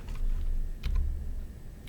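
Computer keyboard typing while working in RStudio, a short cluster of soft clicks near the middle over a steady low hum, close and moderately quiet.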